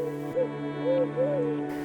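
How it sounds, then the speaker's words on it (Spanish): Turtle doves and wood pigeons coo in soft, low, rounded calls, three or four in quick succession, close and clear against a steady background. "en medio del arrullo de las tórtolas y de las palomas torcaces"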